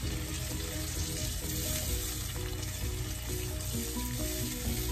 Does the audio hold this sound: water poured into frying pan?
yes